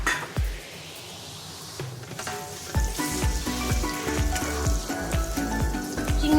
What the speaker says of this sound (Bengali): ওই তেলটাতেই আমি চিংড়ি মাছ ভেজে নেবো।